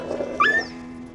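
A bigger dog gives a single short whimpering yip partway through, fairly close and clear against a quiet background.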